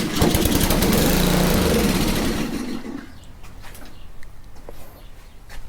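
A Honda pressure washer engine runs briefly on starting fluid, a loud, close, steady small-engine drone that dies away after about three seconds, leaving faint background sounds and bird chirps.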